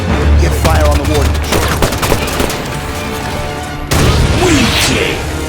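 Heavy gunfire aimed at the Warden in Halo 5: Guardians, dense loud bursts of automatic shots and impacts with booming hits, a brief break then more blasts, voices mixed in.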